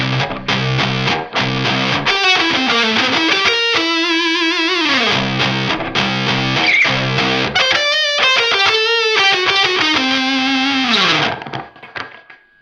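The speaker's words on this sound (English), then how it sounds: "and we'll go full distortion" An electric guitar played through a Red Rox distortion pedal at full distortion, sustained crunchy chords and bending notes ringing loud and close, fading out at the end.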